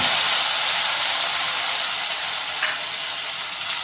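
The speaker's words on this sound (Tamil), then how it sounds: "வெங்காயம் வதங்கினதுக்கப்புறம் தக்காளி பேஸ்ட் சேர்க்குறேன்." Tomato paste hitting sautéed onions in a pan for a kadappa side dish gives a loud, close, steady hissing sizzle like steam, with one brief stir near the end and no talking.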